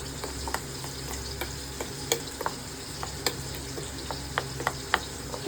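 Bombay duck fish cooks in a pan under a steady sizzle, while a utensil stirs it with irregular sharp taps and scrapes against the pan every second or so, close by.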